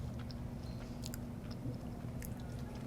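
Crispy, blistered french fries are chewed close to the mic, with soft crunches and moist mastication sounds over a faint background hum.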